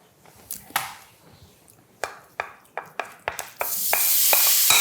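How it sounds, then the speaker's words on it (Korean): Tofu dry-stir-fried without oil in a nonstick coated pan: a series of sharp spatula scrapes and taps against the pan, then a rising steady sizzle as it heats; no talking. "그런데 이 두부를 수분을 날려주기 위해서 이번에 또 팬에서 볶을 겁니다."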